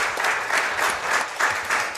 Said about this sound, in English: Can we give a round of applause for Cody?